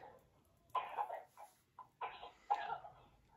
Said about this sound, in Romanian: Of, că nu-i de pace tusea asta.